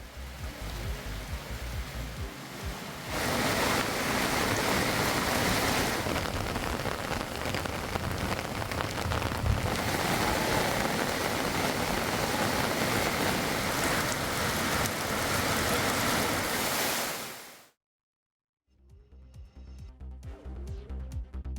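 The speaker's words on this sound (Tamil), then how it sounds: "திருத்தணியில் திடீரென இடி மின்னலுடன் கூடிய கனமழை பெய்தது" Heavy rain pours at Tiruttani temple, a dense, steady roar of downpour on surfaces that holds for about fifteen seconds, cuts abruptly to silence, then resumes more faintly; no distinct thunder stands out.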